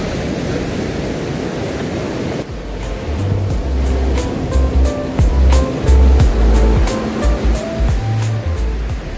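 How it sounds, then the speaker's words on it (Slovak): Ocean waves breaking on a sunny beach, a loud, steady rush of surf with splashing surges and wind buffeting, the sound shifting abruptly partway through into closer, choppier water noise. "Krásne vlny."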